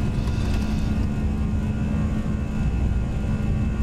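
Airbus A319 on its takeoff roll and rotation in the X-Plane 11 flight simulator at Manchester, a steady loud jet engine roar with a deep low rumble held throughout, no speech.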